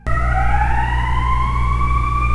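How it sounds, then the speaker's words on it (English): Police car sirens passing through a city street, a loud close wail with a steady rising pitch over a deep rumbling traffic hum, sounding alone without speech. "let's just wait for these police sirens to go by"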